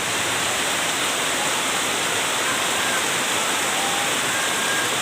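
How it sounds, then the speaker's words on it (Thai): Heavy rain driven by wind pours steadily outside a house, a dense, continuous hiss and rush at close range with no pauses and no voices. "ฝนตกหนักแล้วก็ลมนะคะแล้วทีนี้ฝนก็สาดเข้าไปในตัวบ้าน"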